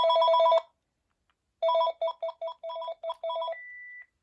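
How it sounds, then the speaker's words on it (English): Panasonic KX-TG6841 cordless phone playing ringtones: a loud electronic warble burst, a pause, then a rhythmic series of short tonal beeps ending in a held steady tone, alone and close. "Let's listen to all the ringtones."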